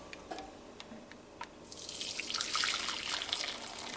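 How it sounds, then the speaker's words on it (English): Hot sauce mixture pours through a sieve in a faint, close trickle, with a few soft drips and then a gently swelling liquid patter. "I'm going to take our mixture and I'm going to pour it through this sieve here."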